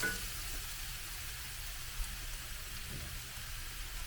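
Ground turkey stir fry sizzling in oil and butter in a pan, a steady, hissing fry close by at moderate loudness, continuous with faint crackles and no talking.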